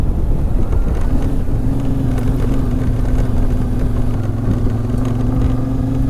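A car drives slowly in second gear along a dusty, dark gravel forest road with hairpin bends. A steady low engine rumble mixes with crunching tyre and road noise and some wind buffeting, heard from inside the car with no talking.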